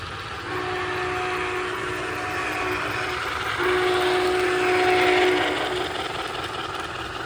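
Model steam engines, an MTH Challenger and a Norfolk and Western, run steadily on the outer main line of a home layout, with a continuous rolling rumble and long sustained whistle tones.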